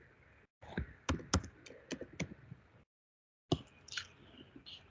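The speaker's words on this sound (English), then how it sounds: "I'm still typing in everything for the course book search that I want to do." Typing on a computer keyboard while entering a course search, heard as bursts of close, crisp key clicks with a brief silent gap before more keystrokes resume.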